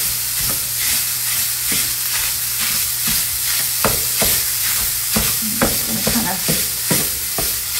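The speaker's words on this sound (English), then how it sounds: "I'm going to cook the zucchini a little bit with the sausage just to get it going" Zucchini and sausage cooking together in a pan for a breakfast casserole, a steady loud sizzle broken by repeated scraping stirs and clacks of a utensil, close up with no talking.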